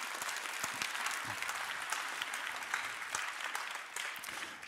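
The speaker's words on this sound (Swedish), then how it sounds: "En stor applåd." Audience applause at a book-industry stage event, steady even clapping from a seated crowd that runs throughout and eases slightly toward the end.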